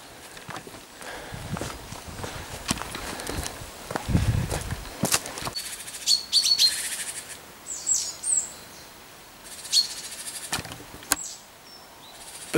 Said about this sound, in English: Bird song. Listen to that all day.